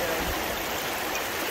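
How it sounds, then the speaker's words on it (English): A river running by near the Skyline Trail gives a steady, close, broadband rush of flowing water with no break. "You got the river that runs by."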